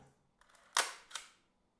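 A film camera's shutter fires during a shutter speed test, making a single close, crisp mechanical snap followed by a softer second click as it closes, in an otherwise quiet room.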